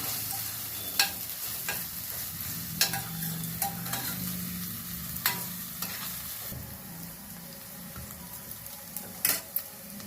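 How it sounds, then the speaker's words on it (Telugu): Ginger garlic paste frying in a pan sizzles at a low level, with soft stirring scrapes and occasional sharp clicks over the steady crackle. "అల్లం వెల్లుల్లి పేస్ట్. ఇది బాగా వేగాలి,"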